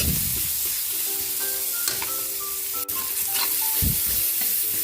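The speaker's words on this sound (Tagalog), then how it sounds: "Lagyan na rin natin yung ating onion. Mix lang." Onion stirred and fried in a pan gives a steady, close sizzle with repeated scraping and clinking of a utensil against the pan, alone without talk.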